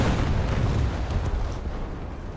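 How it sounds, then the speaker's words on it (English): Torpedoes launch from a warship in a naval video game, heard as a heavy low rumbling rush that holds steady and fades slightly, loud and continuous. "Torpedoes away."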